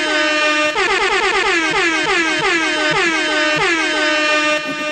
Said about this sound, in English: Let me hit an air horn for me, man